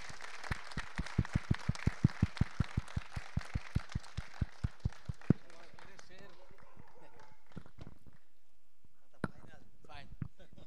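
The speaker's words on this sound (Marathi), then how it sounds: "सगळ्यांनी टाळ्या जोरात होऊन जाऊन एकदा." Audience at a gym premier league prize ceremony clapping for the commentator, a run of about twenty sharp, evenly spaced claps over five seconds, then quiet with a couple of stray knocks.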